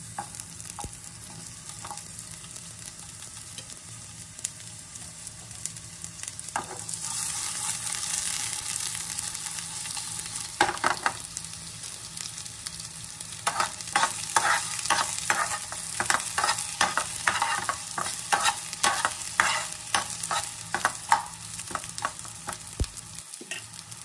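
Onions sizzle and crackle steadily in a hot pan, with scraping stirs breaking in now and then; the frying grows louder and busier partway through.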